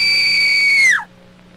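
A high, sustained scream in the Roblox horror game Midnight Motel holds for nearly a second, then slides down and cuts off abruptly, leaving a faint hum.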